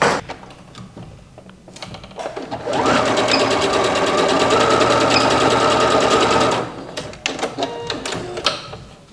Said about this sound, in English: I'm going to go over to my sewing machine and I'm going to sew over it a few times to sew in the elastic